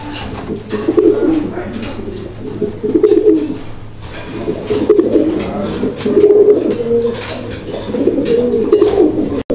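A male fancy pigeon coos in repeated rolling phrases, close and clear, with brief pauses between bouts and a low steady hum underneath.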